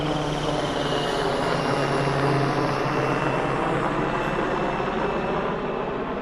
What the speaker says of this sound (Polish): o teraz akurat samolot, jest helikopter, leci nam trochę zagłuszy